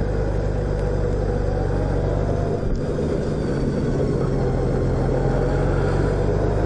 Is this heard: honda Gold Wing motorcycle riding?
yes